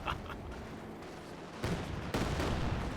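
Katyusha rocket artillery fires in the Company of Heroes 2 video game. Booming launches build in intensity, with two sharp surges of firing late in the clip over a rumbling battlefield background.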